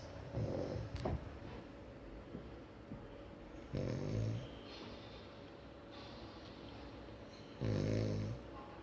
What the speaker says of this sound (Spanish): Este es el nuevo vídeo que hemos hecho de mi abuelo roncando.